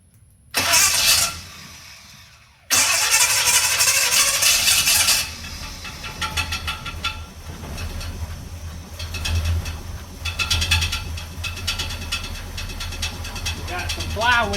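A 1969 Chevrolet C10's 396 V8, sitting for about 28 years, cranks on the starter and catches, settling into a loud, rough idle with uneven revs, while people talk near the truck.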